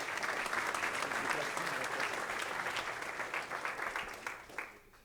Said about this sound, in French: Merci beaucoup Jérémy, on peut l'applaudir.